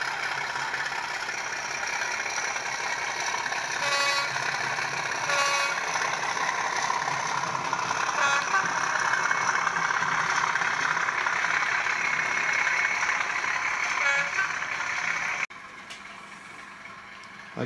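A Bachmann 32-393DS model locomotive runs slowly along a model railway track, its small motor giving a steady hum with light rattles and faint ticks throughout before dropping away near the end.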